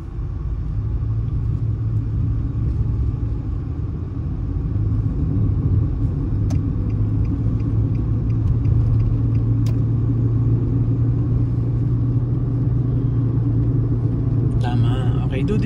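A car rolls along a road with a steady low engine and tyre rumble throughout, close and continuous, while people talk inside.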